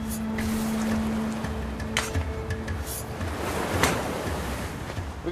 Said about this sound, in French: On a une bonne brise de mer qui s'est levée avec la marée. Il y a de la houle, et du coup les vagues vont encore plus loin.